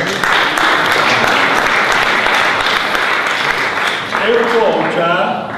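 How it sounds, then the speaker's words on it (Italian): A theater audience applauds an actor introduced at a stage performance, loud dense clapping held throughout, with a voice briefly rising over it toward the end. "anche un applauso, dai, diciamo"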